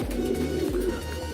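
A pigeon coos low and throaty at close range, a soft repeated burbling call carried over a steady background hum, with no talking.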